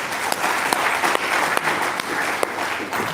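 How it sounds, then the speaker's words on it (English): An audience at a university event claps in a sustained, dense wash of applause, with a few sharper individual claps standing out close by as it carries on at a steady loudness. "Please clap for us, please"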